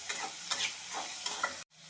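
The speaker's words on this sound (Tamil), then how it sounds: "இப்போ நல்லா வதக்கணும்" Onions and chicken sauté in a pan at home, with steady close sizzling broken by a few louder stirring scrapes and clatters, then a brief pause near the end before the frying resumes.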